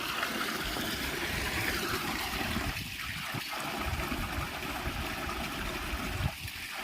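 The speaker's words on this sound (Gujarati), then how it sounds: "કેવું સ્પીડથી પાણી આવે છે" Water gushes at full speed into a home storage tank, a loud, continuous rushing stream with a couple of brief dips in the flow and no speech.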